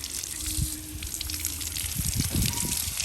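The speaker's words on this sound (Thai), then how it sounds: "นำมาล้างให้สะอาดนะครับ" Running water gushes and splashes steadily while hair is washed clean, a short, close rush of liquid with small uneven sputters and trickles throughout.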